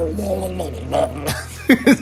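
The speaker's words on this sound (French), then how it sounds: "le chien qui est en train d'étouffer dans sa bave." A dog choking and gagging on its own drool in the video game Backbone, with loud, close, sputtering yelps at the end after a stretch of talk.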